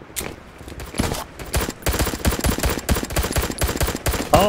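Rapid automatic gunfire from a Battlefield 2042 gun-game match against Adolf Hitler bots, a long sustained burst emptying a whole magazine, dense repeated shots close and loud, with no talking over it.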